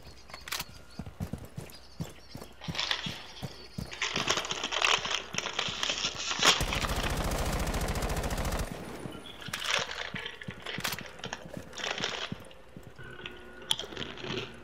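Rapid automatic gunfire bursts in Rainbow Six Siege, a sustained loud volley in the middle framed by scattered shots, footsteps and clatter before and after.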